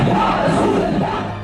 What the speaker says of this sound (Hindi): कई किलोमीटर तक फैली इस भीड़ को देखिए और इस बागी शोर को सुनने और समझने की कोशिश कीजिए